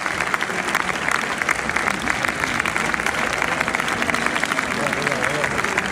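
Right-wing deputies applaud the Prime Minister in the French parliament, sustained dense clapping in a large hall mixed with crowd murmur and overlapping talk.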